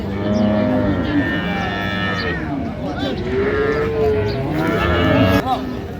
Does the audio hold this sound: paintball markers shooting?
no